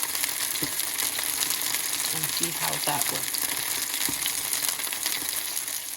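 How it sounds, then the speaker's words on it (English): Kubbah pan frying in oil, a continuous sizzle with occasional pops and stirring scrapes, while a person speaks briefly over it. "another way of frying is to pan fry them"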